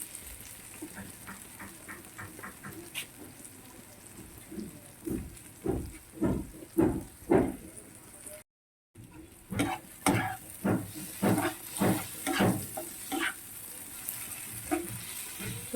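A small splash of water hits hot oil and spice paste in a pan for a pomfret fish curry, setting off a bubbling hiss with repeated stirring scrapes that grow louder, pause briefly, then continue.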